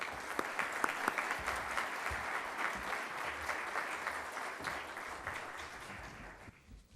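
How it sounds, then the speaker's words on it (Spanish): An audience at a formal conference session applauds the speaker, sustained mid-level clapping from many hands with a few sharper individual claps, fading out at the end. "Demos un gran aplauso a nuestro conferenciante."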